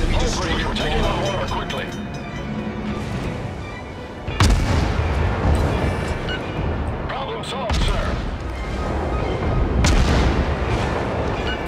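Warship guns fire a broadside in World of Warships, several loud booming salvos at intervals over a dense bed of battle noise, while people talk excitedly throughout.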